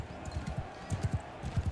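Horse hooves clip-clop in the Mount & Blade II Bannerlord video game: light, uneven clusters of hoof thuds at a trot, moderately close, over a low game hum and faint ambient noise.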